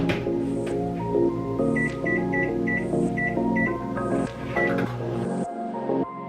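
A microwave oven hums steadily while heating a bowl of water filled about halfway, with a series of short electronic beeps in the middle, close and without talk.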